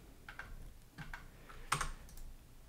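Quiet, close typing on a computer keyboard, a handful of soft scattered keystrokes with one sharper click near the end.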